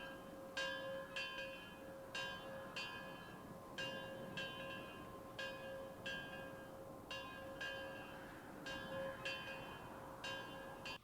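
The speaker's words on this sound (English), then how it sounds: "they went from the main score just to silence and hearing the bell" A single bell tolls slowly and repeatedly in a quiet western film scene from the 1973 movie High Plains Drifter, each clear ringing strike fading into the next over a low ambient hush, with no voices.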